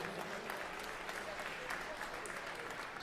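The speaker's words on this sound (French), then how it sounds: "Sous les applaudissements du public tarbé." Crowd applauding at the end of the first round of an MMA fight, a dense continuous clapping from the audience, with a commentator talking over it.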